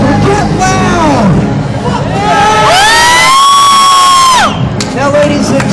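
A Las Vegas Fremont Street freak show audience cheers and whoops loudly, a dense crowd roar with shouts and whistles rising and falling close by.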